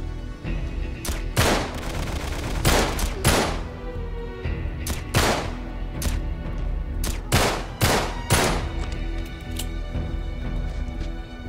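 Gunfire in the video game Uncharted 3: Drake's Deception, including a shotgun, with loud sharp shots scattered irregularly over a constant rumbling background of game noise and no talking.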